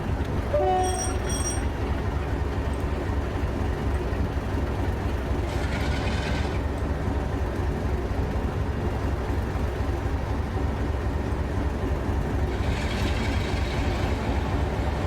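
A train departs in the video game Trainz Plus on the Bodmin & Wenford Railway, with a steady rumble of wheels on rail, a short horn blast near the start and brief squeals mid-way.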